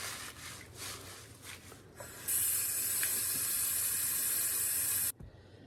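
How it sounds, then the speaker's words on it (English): Tap water runs steadily into a kitchen sink while fresh herbs are rinsed to wash off leaves and dirt, a broad hiss that starts partway through and cuts off near the end, with soft rubbing and handling noises before it. "wash them all and make sure that I get any leaves and any of that off of them"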